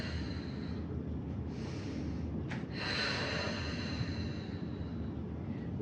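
Steady breathing in and out during a quadruped core exercise, a slow audible inhale and exhale close up, with one brief sharp breath midway and no talking.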